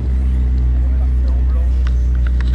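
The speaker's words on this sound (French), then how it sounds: "Le démarrage à froid de toutes les voitures le matin comme ça, c'est assez sympa à entendre." Several cars idle together just after a cold start on a dewy morning, a loud, steady, deep engine rumble close by that persists throughout, with a voice faintly over it.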